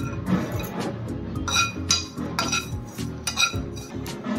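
Peanuts, sesame seeds and dried chillies dry roasting in a kadai, with rhythmic scraping and clinking of a spatula against the metal pan and a soft rattling of the seeds.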